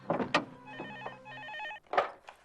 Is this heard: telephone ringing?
yes